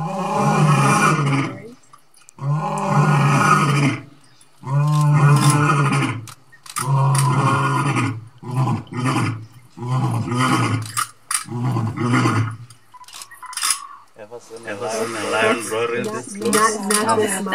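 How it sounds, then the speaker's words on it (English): A lion roars in a series of long, loud, deep calls separated by short pauses, close and powerful, each call trailing into grunts. "So this is a lion, if you haven't guessed by now. This is a lion call"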